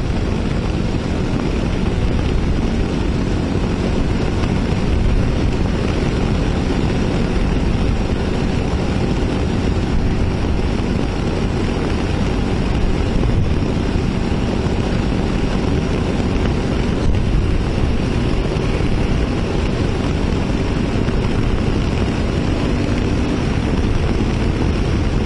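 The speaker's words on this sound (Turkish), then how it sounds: "bugün gerçekten çok rüzgarlı ve kask da acayip rüzgar geçiriyor" Heavy, constant wind roar buffets a microphone inside a motorcycle helmet on a windy day, steady and loud throughout with engine and road noise blended underneath.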